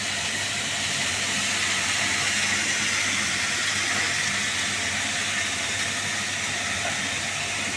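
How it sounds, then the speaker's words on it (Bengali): Pumpkin greens fry in mustard oil over a low flame, giving a steady, even hiss that holds throughout with no talking. "কিছুক্ষণ আমি একটু ভাজবো, আঁচটা কমিয়ে"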